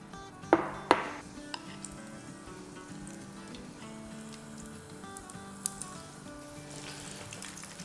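A second batch of katori pakoras frying in hot oil gives a steady, quiet bubbling sizzle, with two sharp utensil taps near the start and one faint clink later.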